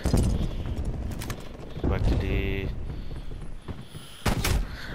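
Rapid gunfire from the Call of Duty Cold War beta video game, with loud bursts of shots at the start, middle and end, while a player talks in between.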